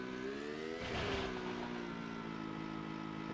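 A video game car engine sound effect, buzzy and toy-like, drones steadily, its pitch sliding up and then settling back as it revs.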